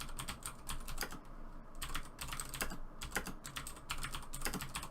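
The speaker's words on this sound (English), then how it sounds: "I was typing a message, but my keyboard is super loud." Rapid clattery typing on a loud computer keyboard, a dense stream of sharp key clicks with brief pauses, close-up and steady over a low background hum.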